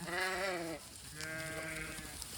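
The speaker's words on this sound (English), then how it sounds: "the sheep have found the way around" Sheep bleating on a farm as the flock moves through an opened gate to new sheltered grazing: two close, loud bleats, a long wavering call then a second after a short pause, with no talk.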